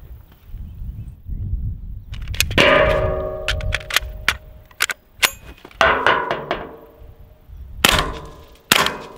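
CZ Scorpion EVO pistol magazine released with the trigger-finger tabs and dropping out, sharp metallic clicks and clacks in irregular bursts, close and loud, with a few resonant clangs of metal parts.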